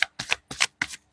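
Tarot cards are shuffled in quick, crisp riffling bursts, four close, loud flurries separated by brief silences, with no voices.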